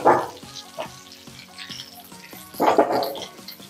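Tempering spluttering in hot oil, with curry leaves added, loud crackling bursts at the start and again near the end over a steady lower sizzle.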